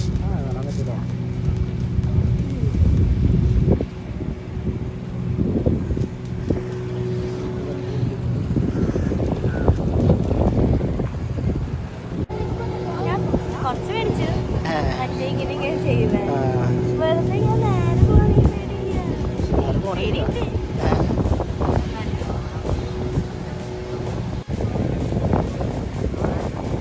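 A boat motoring across open water on a Pondicherry outing, steady engine drone and wind buffeting the microphone throughout, with people chatting over it.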